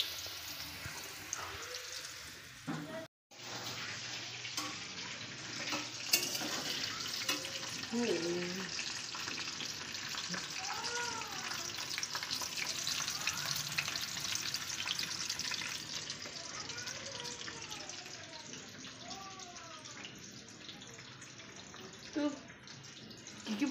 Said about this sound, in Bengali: এই যে আলু ভাজা বসিয়ে দিয়েছি।